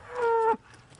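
A single cow's moo, a short close bellow lasting about half a second, then quiet outdoor background.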